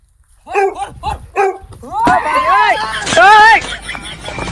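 A dog barks and yelps several times, close and loud, in a rural Gujarati village setting, with people talking over the barking.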